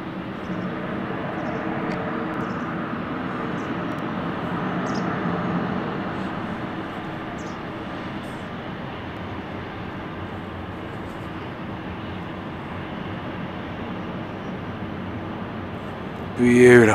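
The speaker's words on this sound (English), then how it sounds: "you have got an aircraft takeoff behind you as well" Jet aircraft taking off at London City Airport, a broad steady roar that swells slightly mid-way and holds at a fairly loud level from a distance, with occasional faint outdoor sounds and no clear talk.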